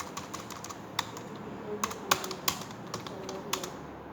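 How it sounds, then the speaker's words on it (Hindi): Typing on a computer keyboard while entering text, with steady soft key clicks and a few sharper keystrokes close by, no talking. "हमको टेक्स्ट टाइप करना पड़ेगा।"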